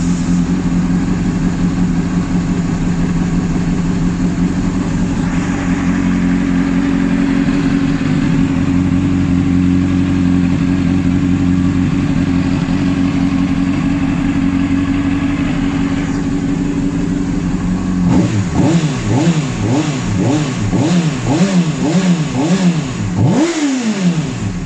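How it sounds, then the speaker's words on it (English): A warmed-up track day motorcycle engine idles loudly up close, then is revved repeatedly in sharp rising and falling bursts near the end, with no voices. "I did warm it up before that, by the way, so I didn't just rev it like that from cold."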